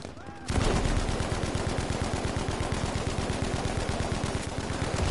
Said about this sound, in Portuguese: tá vindo tiro, tá vindo tiro